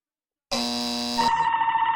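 A loud electronic game show buzzer blares for about a second on Blockbusters, then shifts to a lower warbling tone that continues to the end.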